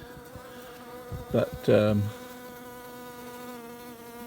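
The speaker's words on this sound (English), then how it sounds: "A lot of bees just circling around in front" Honeybees circle in front of a crowded observation hive, their buzzing swelling into two close passes at mid-clip over a steady low hum of the colony.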